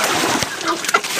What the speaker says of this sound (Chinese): 你们小鸡哦，小小的红色的鸡哦，你们真的是贪吃鬼哈